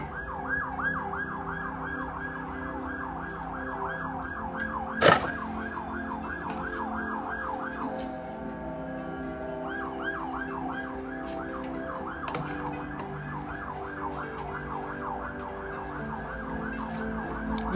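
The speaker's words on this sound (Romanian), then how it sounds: "Nu e ambulanță, e o mașină de poliție." A police car siren wails continuously in rapid rising-and-falling cycles, clear and moderately close, briefly dropping away before resuming, with traffic noise underneath and one sharp click partway through.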